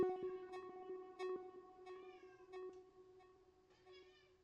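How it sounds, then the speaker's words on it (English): A cat meows repeatedly in a steady, drawn-out, tonal way, fairly close and alone with no talking. "I am sorry for my cat. He is just very vocal"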